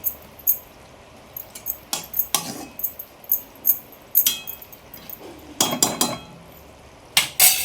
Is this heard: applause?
no